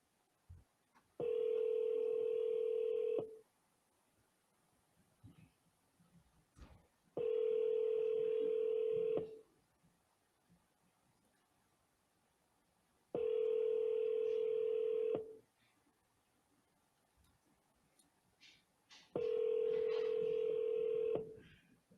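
A telephone ringback tone sounds during an outgoing call, four evenly spaced two-second tones separated by about four-second gaps, clear and steady against faint background noise.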